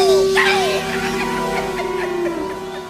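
A dog whimpers and yelps in high, wavering cries that rise and fall over a steady tonal background, with a voice faintly mixed in.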